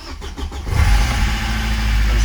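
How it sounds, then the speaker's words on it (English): A car engine cranks briefly, catches and settles into a loud, steady running roar. "Now, when I start this car, it will make a lot of noise."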